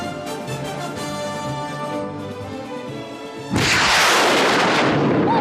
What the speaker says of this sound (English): The rocket is armed and ready to fire.